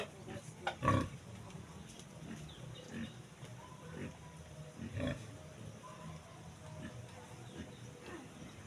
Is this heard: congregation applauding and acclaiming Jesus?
no